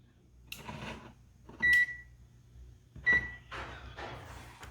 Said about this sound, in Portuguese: Na escala do BIP, como o próprio nome está dizendo, ela vai bipar.